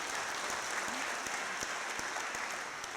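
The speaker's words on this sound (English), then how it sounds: "that deserves an applause." Steady applause from a leadership talk audience, a dense even wash of clapping with a few sharper individual claps, moderately distant and continuous throughout.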